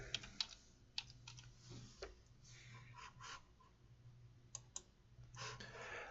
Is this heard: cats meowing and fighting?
no